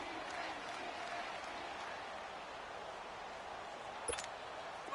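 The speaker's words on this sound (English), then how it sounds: "The crowd here in the Dome making things difficult." A broad stadium crowd roars inside a domed arena in a football video game, a steady wash of cheering and applause with a brief louder burst near the end, no clear speech.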